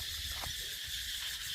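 Cicadas drone in a continuous, steady buzzing chorus heard from inside a quiet room, with no other sounds over it.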